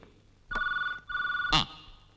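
A telephone bell rings in two electronic bursts separated by a short gap, clear and fairly close, with a sharp click at the end.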